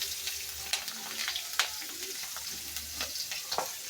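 Onions and green chilies frying together in oil, with a soft constant sizzle and occasional sharp stirring clicks from the pan, quiet and close with no talk.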